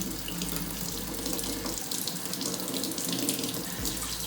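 A kitchen tap runs in a steady, loud, close hiss of water falling into a sink, unbroken throughout with no voices.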